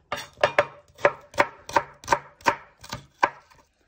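A knife chops onions and carrots on a board for beef bourguignon, about ten crisp evenly spaced cuts landing close and clear with no voices.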